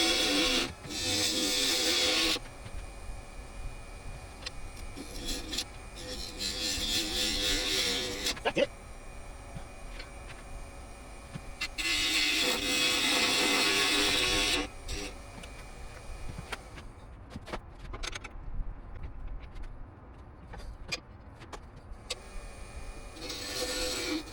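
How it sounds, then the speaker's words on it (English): Scrap wood spinning on a woodturning lathe as a tool hollows it out, giving repeated loud bursts of broadband scraping and cutting separated by quieter stretches of motor hum and light ticking. "Alright, time to start hollowing this thing down"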